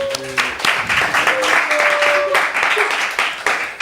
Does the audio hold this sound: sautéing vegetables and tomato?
no